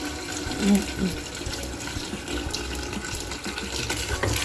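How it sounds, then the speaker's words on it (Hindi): Potatoes washed under a running tap make a continuous splashing rush of water with handling noises mixed in. "आलूओं को मैं अच्छी तरह धो के बॉईल करूँगी"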